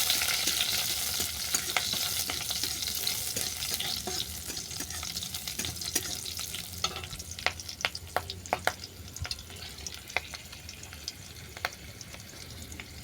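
Green chillies fry in hot oil in a pan with a steady broadband sizzle and occasional sharp pops and crackles. No one speaks over it.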